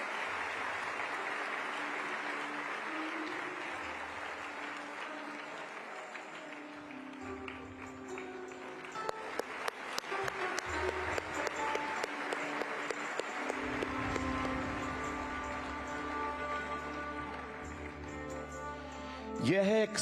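Audience applause at a temple inauguration, the BAPS Hindu Mandir in Abu Dhabi: a sustained wash of crowd clapping that swells into denser, sharper claps midway, continuing steadily with a louder burst near the end.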